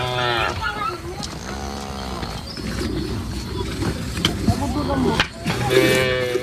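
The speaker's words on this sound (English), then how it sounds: "the cows are milked" Himba cattle mooing as the cows are milked, several drawn-out lowing calls from nearby animals with rustling and other farm noise between them.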